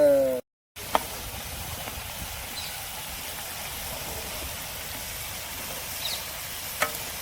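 Beef head curry gravy with masala sizzles steadily in a pan as it is stirred, a continuous frying hiss with a couple of faint utensil taps, following a brief cut at the start.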